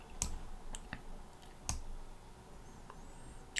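Computer mouse clicks, a few sharp, close clicks spaced irregularly over a quiet room background, with no talk.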